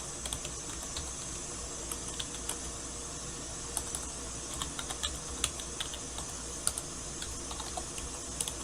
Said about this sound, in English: He's actually typing fairly well